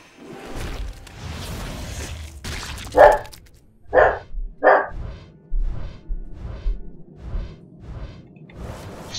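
A dog barking in a home, three sharp close barks in quick succession after some rustling, followed by softer low sounds and shuffling.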